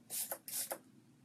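Fix Plus setting spray misted from a pump bottle onto a made-up face, two short hissing sprays in quick succession, close and soft, with quiet room tone after.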